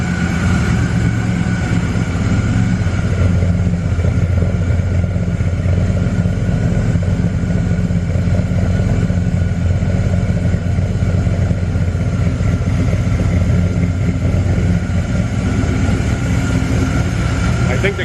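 An LS-swapped Oldsmobile Cutlass V8 idles loud and close, a steady low rumble with a faint belt whine running continuously throughout.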